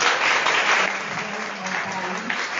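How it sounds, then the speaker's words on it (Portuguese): A crowd at an in-person lecture claps together in a dense burst of applause, loud and sustained for a couple of seconds, with a few voices mixed in. "eu quero uma salva de palmas para a Rosa"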